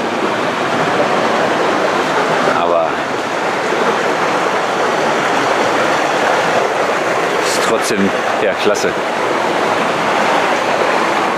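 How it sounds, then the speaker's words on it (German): Water rushes steadily beneath metal walkway grates in the Drachenschlucht gorge near Eisenach, a loud continuous roar all the way through, with a few brief clanks and a person speaking briefly over it. "Das Ganze über solche Gitter, wo durchgehend das Wasser unter einem herfließt."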